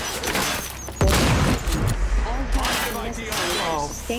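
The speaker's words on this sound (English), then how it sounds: "Grenade out!" Grenade blast and gunfire in the Quantum Break shooter game: a heavy boom lands about a second in, followed by scattered shots and impacts under shouted voices and radio chatter.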